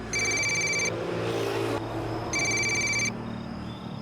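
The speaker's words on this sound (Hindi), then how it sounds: "तेरी बहन का फोन आया" Telephone ringing indoors, two bursts of electronic ring tone separated by a short pause, loud and close over a low background hum.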